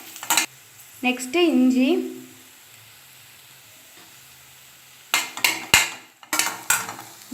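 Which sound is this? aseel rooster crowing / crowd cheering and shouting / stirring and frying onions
stirring and frying onions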